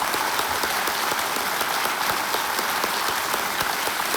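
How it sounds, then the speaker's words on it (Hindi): Studio audience on the Kaun Banega Crorepati quiz show applauds a contestant, a loud, dense and continuous wall of clapping that stays even from start to finish with no talk. "तालियां बज जाए इनके लिए"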